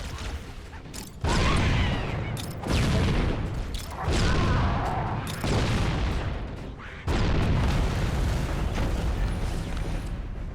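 Repeated loud grenade-style blasts from Halo: Combat Evolved gameplay, several bursts in quick succession with rumbling tails and short gaps between them.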